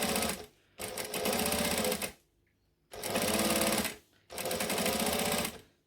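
A domestic sewing machine stitching fabric runs in three steady bursts of rapid, even needle clatter and motor whir, each lasting one to two seconds, separated by short silent pauses, close and clear.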